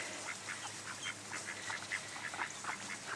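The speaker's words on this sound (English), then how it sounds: "I love our little ducks." Little ducklings quack in a steady run of soft, close calls over a constant background hiss of outdoor noise, with no voices.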